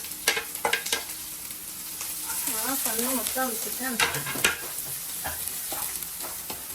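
Onions for chicken curry sizzle steadily in hot oil on low heat, with scraping stirs; a voice talks briefly over the frying.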